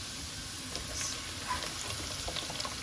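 Chopped onions frying in oil in a home kitchen pan for a chicken curry, a steady soft sizzle and crackle with small pops throughout, no talking.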